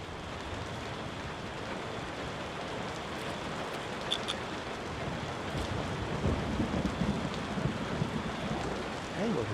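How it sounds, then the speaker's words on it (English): Steady rain falls over a tavern scene in the game Tavern Keeper, a dense hiss that continues throughout. Low rumbling thunder swells underneath, growing a little stronger toward the end. "Seems we're in for a rainy night."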